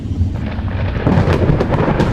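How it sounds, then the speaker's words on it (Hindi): Sudden storm thunder in a cartoon: a loud, deep rolling rumble that swells and continues without break, with a hint of rain texture. "मौसम अचानक बदल जाता है और तेज तूफान आ जाता है।"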